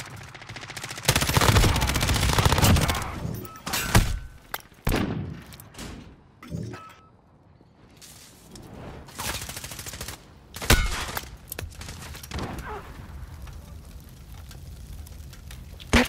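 Bursts of gunfire ring out in a first-person shooter game, sniper rifle and automatic fire mixed in, loud cracks cluster early then thin to scattered shots over a quieter background.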